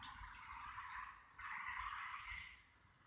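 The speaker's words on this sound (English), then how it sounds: "It's just the sound of the traffic." Road traffic passes in the background, faint and distant, with two swelling hisses of tires on the road as vehicles go by one after another.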